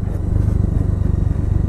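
A motorcycle rides off-road on a rough, dusty road under construction in East Sikkim between Nathang and Siliguri. The engine gives a loud, close, steady pulsing thrum with rattling from the rough ground and no talking.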